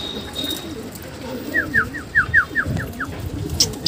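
Pigeons call in a quick series of short, repeated notes over outdoor background noise, with faint rustling and a few soft thumps.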